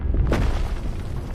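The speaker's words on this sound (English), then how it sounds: "Every Earth tremor or volcanic explosion was a part of the planet's life" A deep, booming volcanic explosion with a heavy low-end rumble and a sharp crackling burst early on, followed by a loud, sustained roar that slowly rolls on without fading.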